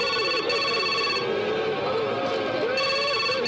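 A telephone rings steadily in a tense scene from a South Indian action film, its repeated electronic trill running unbroken and fairly loud over a dense background.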